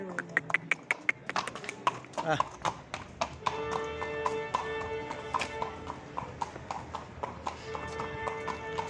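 Hooves of a rahvan pacer javelin (cirit) horse in Gördes, Manisa clip-clop in a quick, steady rhythm close by. Voices talk in the background.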